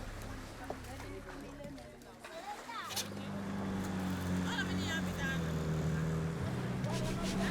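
A taxi boat engine hums steadily on a lake between Samasi and Kasanga with a low droning tone, growing louder and fuller after a few seconds, with wind and water rushing around it.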